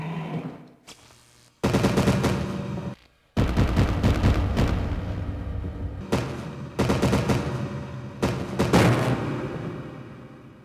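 Stun gun defense item in the video game Resident Evil REmake, crackling in loud, dense electric bursts separated by brief gaps of near-silence.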